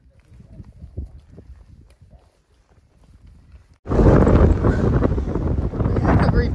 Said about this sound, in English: We had a reprieve from the wind and it just started again